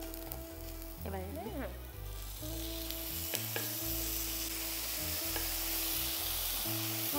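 Steady, loud sizzling from ingredients frying in a pan for a ridge gourd and fish curry with garlic, tomato and coriander leaves, with stirring clinks and scrapes over the continuous hiss and no talk.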